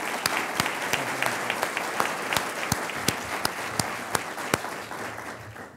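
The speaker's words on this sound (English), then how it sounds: "That deserves a round of applause" A room full of people applauds steadily, a dense wash of clapping with a few sharp, close claps standing out above the rest.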